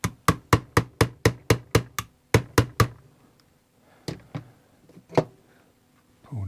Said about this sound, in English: Get your hammer again. Now all we're going to do is just tap it down